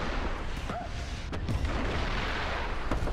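Tank cannon fire and impacts in the War Thunder video game, with the Swedish U-SH 405 vehicle involved: muffled booms and a sharp crack over a dense, continuous rumble of battle noise.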